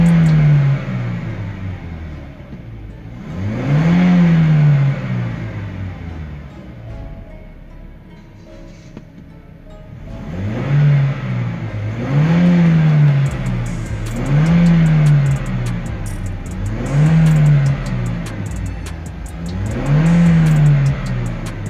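Toyota Innova petrol engine, just after MAF sensor cleaning, revving hard in a series of loud blips: one rise early on, a pause at idle, then four or five evenly spaced revs in quick rhythm, close up with no talk.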